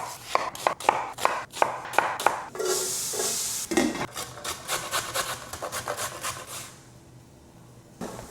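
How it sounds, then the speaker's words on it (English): Onions being chopped with a knife on a wooden cutting board, a quick run of sharp close taps, then a scraping pass across the board and a slower series of cuts, with no talk. "Let's start with chopping some onions."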